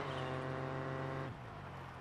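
A rally car engine in a video game drones at a steady, buzzy pitch, then abruptly drops to a lower, rougher tone, fairly quiet and heard alone.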